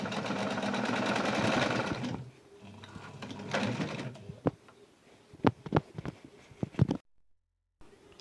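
A sewing machine joins fabric pieces for the frills of a flat sheet with gathers, a brisk run of stitching followed by a second short burst, then scattered clicks and handling knocks before brief silence.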